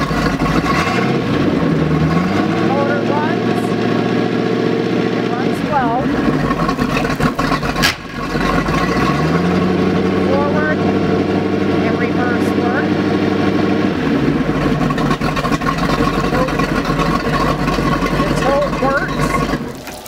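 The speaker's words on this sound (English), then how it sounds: "It's got a 260 V8 engine in it with an Outdrive." A 1979 Sea Ray 26-foot cabin cruiser's 260 V8 with an outdrive, test-run out of the water, idles steadily and loudly throughout, its pitch rising briefly around a couple of gentle revs.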